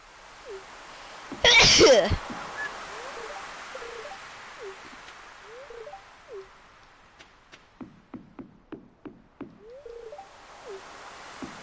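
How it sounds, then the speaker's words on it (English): A single loud, abrupt sneeze bursts out near the start, followed by quieter clicks, light tapping and faint background voices. "I'm gonna sneeze."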